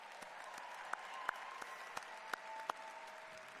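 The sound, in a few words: applause for law school graduates at commencement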